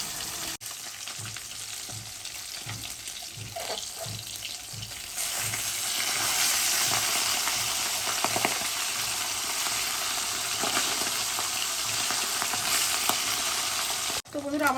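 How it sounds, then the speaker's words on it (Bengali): Pabda fish frying in hot oil on a lowered gas flame, a steady loud sizzle that swells partway through, with light stirring taps and a few soft clatters, no talking. "প্রথমে আমি 3টে দিয়ে ভেজে নেবো।"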